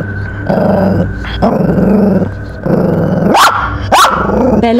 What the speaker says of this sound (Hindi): बेला किस पे भौंक रही है